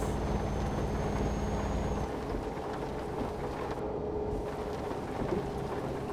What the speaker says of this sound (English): bit of lightning